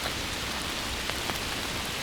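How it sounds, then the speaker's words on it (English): Gentle rain falls outside in a steady, even patter, soft and continuous with a few slightly sharper drops, and no voices. "As the rain continues its gentle rhythm outside"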